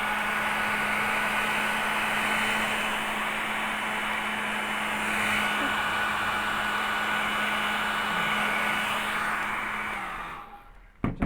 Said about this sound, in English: In fact, I could just hair dryer it.